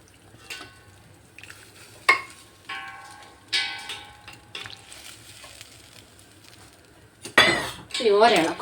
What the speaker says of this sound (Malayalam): നമ്മുടെ മീൻ അതിനകത്തേക്ക് നമുക്ക് ഇട്ട് കൊടുക്കാം